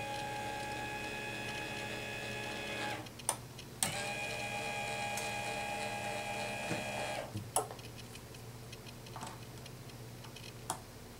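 A FrightProps electric linear actuator driving its shaft at standard speed, a steady whining motor tone that runs, pauses briefly with a click, then runs again before stopping, with faint ticks afterward and no talking.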